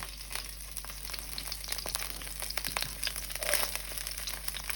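Onions and garlic sauté in a pan over moderate heat, giving a low, steady sizzle with scattered crackles and a brief louder rustle near the middle, heard close and without talk.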